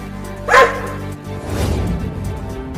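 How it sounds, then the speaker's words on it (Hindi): Cartoon dog gives a single loud bark up close, followed by a rough, noisy rumble that continues to the end without speech. "अरे चिंकी, वो देखो, वो कुत्ता फिर से आ रहा है। और देखो, वो एक और कुत्ता को भी लेकर आ रहा है।"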